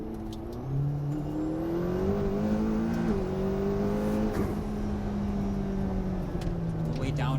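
A hybrid car makes a quick electric-assisted acceleration pull, a rising whine with tones climbing in pitch over a steady road rumble for several seconds, with someone talking over it.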